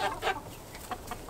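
Backyard chickens cluck in a few short, close bursts, scratching around in a dry spot alongside turkeys, with quiet gaps between calls.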